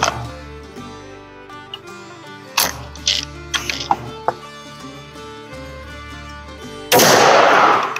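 An old Winchester 37 shotgun, aimed at a target about 20 yards away, makes a few metallic handling clicks before a single loud, close blast erupts at the very end.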